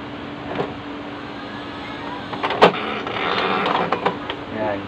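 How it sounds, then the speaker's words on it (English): An Epson L120 inkjet printer feeding a sheet of paper after its feed button is pressed, giving a soft whirring and creaking mechanism sound with a few small clicks, close but fairly quiet. "Pipindutin ko yung paper feed."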